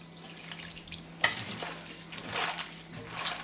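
Gram flour batter being stirred for chicken chana pakora, soft wet slaps and scraping in a bowl, close and quiet, with one sharper clink of the spoon partway through.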